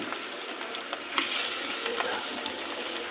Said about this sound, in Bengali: এই ছাড়লাম মাছ,